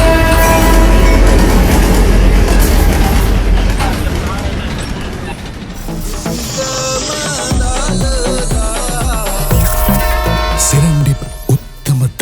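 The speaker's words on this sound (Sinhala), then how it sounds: "අති විශේෂ සෙරන්ඩිප් උත්තම දළදා කෝච්චිය ගම්පහ ස්ටේෂන් එකට එන අතරේ" The Serendib Uththama Dalada special train pulls into Gampaha station with a loud, continuous rumble and clatter, and sharp high squeals rising over it partway through.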